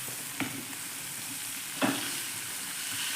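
Tomatoes go into a hot pan for a quick tomato vegetable dish, giving a steady sizzle with two sharp clattering scrapes of stirring, close and loud, without talk.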